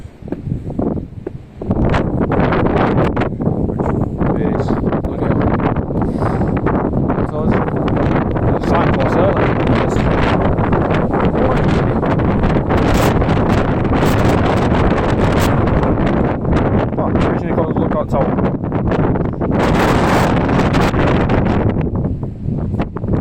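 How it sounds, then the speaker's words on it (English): Strong wind roars across a hilltop at Rivington, buffeting the microphone in a loud, continuous gusty rush for the whole stretch, with a brief quieter moment at the start. "I've heard tell it might be windy up here"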